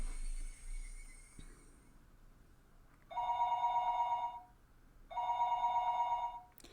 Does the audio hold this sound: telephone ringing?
yes